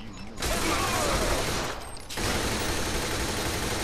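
Sustained dense automatic gunfire in the video game Saints Row The Third roars in two long bursts with a brief gap between them, loud and continuous, with no talking.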